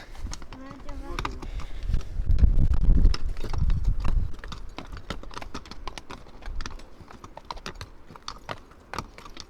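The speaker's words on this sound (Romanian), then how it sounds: "Trei cai albi." Three white pack horses walk on a mountain hiking trail near a cabin in the Caucasus, their hooves clip-clopping in a steady, irregular patter, with a low rumble early on and voices talking quietly.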